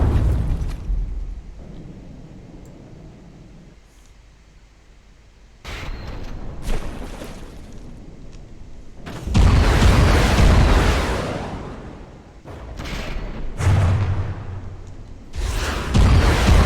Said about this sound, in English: Kill the Vanguard by pressing left control to fire your missiles.